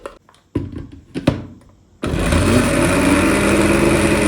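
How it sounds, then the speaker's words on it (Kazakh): A few sharp knocks and clatters, then a blender motor kicks in and whirs loudly and steadily, chopping onion and garlic close by. "Ең алдымен осы пияз бен сарымсақты блендерден жақсылап өткізіп аламыз."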